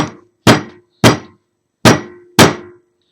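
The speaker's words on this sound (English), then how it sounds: "all you want to do is just take your hammer" A hammer strikes acorn shells on the ground to crack them open: four sharp, loud thunks spaced about half a second apart, each with a brief ringing tail, and no talk.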